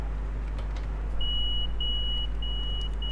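Door warning beeps on a New Haven M8 commuter train in the Train Sim World 2 video game: a steady series of thin electronic tones starting partway in, faint over a low constant hum with no talk.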